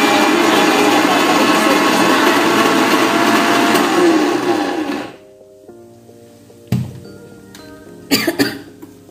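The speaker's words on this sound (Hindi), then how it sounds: "अब इसी तरह से मैं सारी दाल को दरदरा पीस लूंगी।" A mixer grinder coarsely grinds dal with a loud, dense whirring roar for about five seconds, then stops abruptly, followed by a faint ringing hum and a few clattering knocks.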